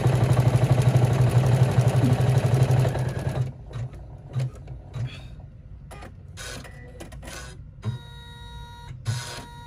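An embroidery machine stitches an in-the-hoop appliqué bag, running as a loud, steady, rapid whir for about three seconds. After that come intermittent short mechanical bursts and clicks, and some faint talking.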